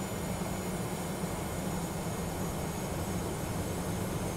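Simulated Boeing 717-200 airliner cruising in flight within a flight simulator game, giving off a constant broadband engine and air rush with a low hum, steady and unbroken, with no voices.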